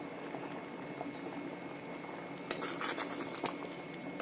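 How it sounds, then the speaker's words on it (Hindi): Rajma (kidney beans) boiling in a pot, a steady soft bubbling hiss with a few light clinks of a utensil against metal, no talking. "ये देखिए ये उबलना शुरू हो गया"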